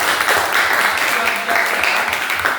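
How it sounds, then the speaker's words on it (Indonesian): Steady applause for a group in a classroom lesson carries on evenly throughout, with voices mixed into the clapping. "tepuk tangan buat kelompok"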